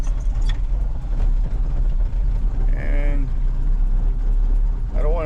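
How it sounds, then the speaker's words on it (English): A car with a very touchy throttle revs close by on a morning start, a loud low engine rumble with short rising whines as the pedal is blipped. "I don't want to accelerate too much because it's got a very touchy throttle"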